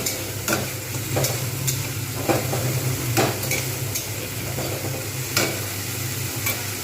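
Egg biryani spice masala being stirred and fried in a pan, with a steady sizzle throughout and periodic scraping strokes of the spoon roughly every second, close and moderately loud with no talk.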